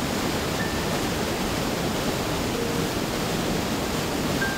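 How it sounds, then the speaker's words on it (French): A huge river rushes below a night recording spot at Val Sinestra in Switzerland, a loud, dense, unbroken roar of water that fills the whole stretch without any change. "le son est complètement parasité par la rivière en contrebas"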